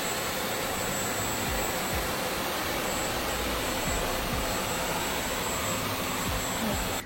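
Continuous high-pitched whine and rushing airflow from a Dyson cordless vacuum cleaner running close by, steady and loud throughout and cutting off at the very end, with no talking.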